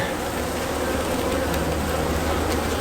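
Honeybees buzzing steadily and close during a hive inspection, a dense continuous drone that holds at one level throughout.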